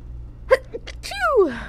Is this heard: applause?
no